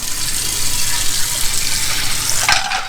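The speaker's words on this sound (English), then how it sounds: "Cold water." Cold water pours steadily from a kitchen tap, a continuous hissing gush that changes tone near the end as it hits shrimp in a colander.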